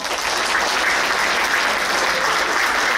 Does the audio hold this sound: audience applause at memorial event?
yes